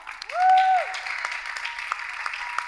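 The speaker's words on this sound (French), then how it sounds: "On acclame Vanessa." An audience applauds Vanessa as she takes centre stage on a TV show set. A bright rising-and-falling whistle-like tone opens, followed by steady, moderately loud clapping.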